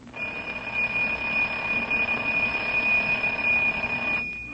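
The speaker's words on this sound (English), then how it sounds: "we hear the alarm clock ringing" An alarm clock rings in an old-time radio drama, a loud continuous metallic bell trill held steady for several seconds and then cut off abruptly, with no talk over it.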